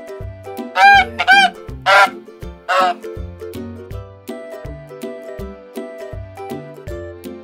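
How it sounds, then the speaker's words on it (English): Farm goose giving about four loud, nasal honks in the first few seconds, set against a steady, plinking children's music loop that carries on alone afterward. "Goose."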